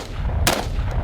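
A single sharp, loud rifle shot from a Brownells BRN-180 Gen 3 piston rifle fired unsuppressed on the adverse gas setting, standing alone against faint background noise.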